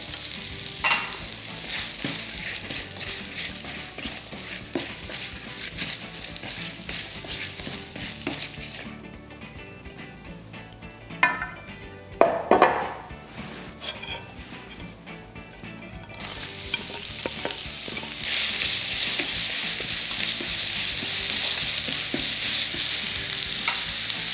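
Shiitake mushrooms seasoned with salt and black pepper fry in a pan for bibimbap, a constant close hiss broken by a brief burst of stirring and clatter midway, with no talk.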